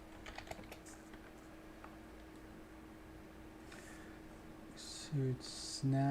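Keystrokes on a computer keyboard as a sudo command is entered while installing bare-bones Ubuntu: a quick cluster of close, crisp clicks near the start, then quieter sparse taps over a steady hum, ending in brief bursts of a voice speaking.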